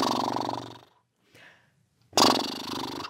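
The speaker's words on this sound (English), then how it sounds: "Next, we are going to do your lip flutters, which look ridiculous, like this." Lip flutters from a voice warm-up exercise, lips buzzing with steady airflow: two long sustained buzzing bursts, close and fairly loud, separated by a short breathy pause.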